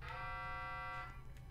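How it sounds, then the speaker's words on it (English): A steady electronic alarm in the Heavenly Bodies space station game, a continuous harmonic buzzing tone held throughout at moderate level, alone without talk. "The alarm is going off."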